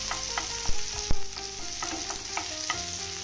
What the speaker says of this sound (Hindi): अब हम इसमें डाल देते हैं टमाटर। टमाटर को भी थोड़ी देर भूनने के बाद हम मसालों को ऐसे साइड कर देंगे